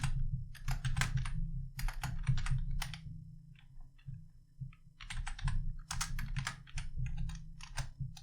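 Steady typing on a computer keyboard while an HTML page is coded, with bursts of rapid clicky keystrokes separated by short pauses, fairly close and clear over a low background hum.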